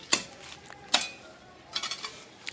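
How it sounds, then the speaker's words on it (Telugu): Pots and utensils being scrubbed clean, a few sharp metallic clinks and scraping rubs, close and moderately loud, spaced irregularly across a short stretch. "నేను ఇప్పుడు చూపిస్తా చూడు గిన్నెలు ఎంత తెల్లగా తోముతాను"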